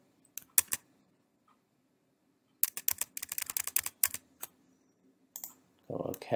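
Computer keyboard typing in close, quick bursts of crisp clicks, a short pair early on, then a dense run of keystrokes, a few isolated taps and a final cluster.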